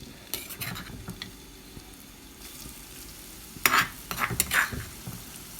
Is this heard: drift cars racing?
no